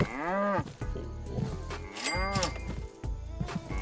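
Cows on a farm in the game Estate Agent Simulator moo loudly and close, with several long bellowing calls in a row under a faint game background.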